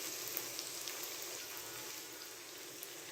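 Mutton hitting a hot pan of frying onions and ginger-garlic paste, giving a steady, close, broadband sizzle that hisses on without a break and has no voices over it.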